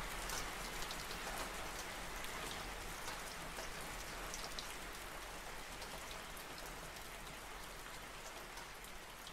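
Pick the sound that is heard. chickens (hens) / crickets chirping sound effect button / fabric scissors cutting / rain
rain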